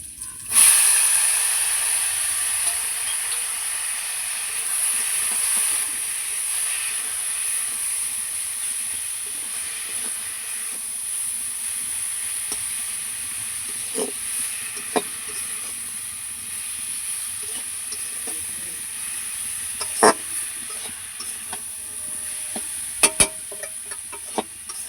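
Leafy greens sizzling in hot oil after being added to onion and garlic that have fried until nearly red. A steady, fairly loud hiss carries throughout, with occasional clicks and scrapes of stirring and no talk.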